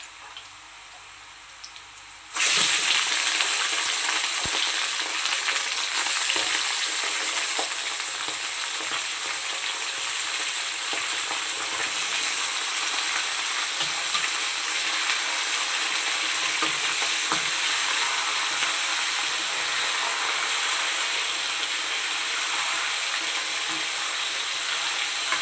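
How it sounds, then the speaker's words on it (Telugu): Chicken pieces drop into hot oil with browned onions for a home-style gravy curry, setting off a loud, steady sizzle after a quiet start that keeps frying evenly throughout. "ఇప్పుడైతే చికెన్ వేసుకుంటున్నాను."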